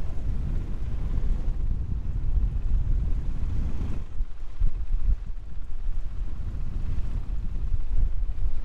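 Strong wind buffets the microphone continuously on an inland track in remote southeast Western Australia, a low rumbling roar with gusty surges and no voices.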